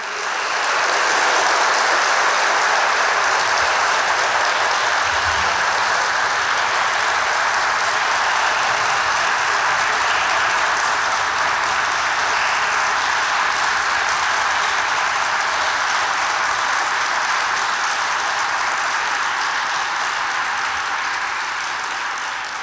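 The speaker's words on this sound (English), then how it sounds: "please join me in a round of applause for our graduating seniors" A large audience at the Yale Naval and Air Force ROTC President's Review applauds graduating seniors, a dense, loud, unbroken wash of clapping that holds steady for over twenty seconds.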